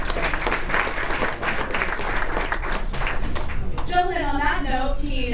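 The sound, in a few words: audience applause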